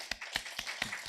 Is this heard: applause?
yes